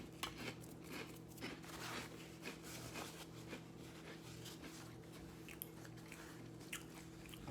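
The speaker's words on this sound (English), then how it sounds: "I can't believe I'm sitting here watching him eat toast" Close, quiet crunching and chewing of toast, with repeated soft bites over a faint steady background hum.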